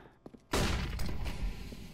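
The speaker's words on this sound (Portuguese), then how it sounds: "Flashbang, deploying smoke shield." A flashbang grenade bursts in Counter-Strike with a sudden loud crack after a few soft clicks, followed by a ringing, noisy decay that lasts about a second.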